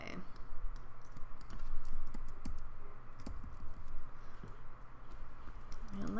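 Computer mouse clicks while working in Illustrator, a scattered series of sharp, close, light clicks over a low room hum.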